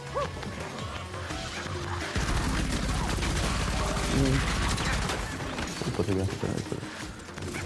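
Submachine gun fire in the Shadow Warrior 3 game comes in rapid bursts amid other combat noise, with a person talking excitedly over much of it.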